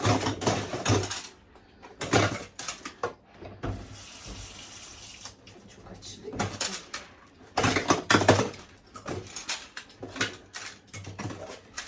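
Running water from a tap starts and stops in bursts while dishes are rinsed, with occasional clinks and clatter in between.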